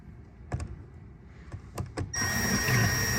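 A power drill whirs in short bursts, then runs steadily at a high pitch for over a second, close by, drilling holes for a diffuser on a Dodge Charger.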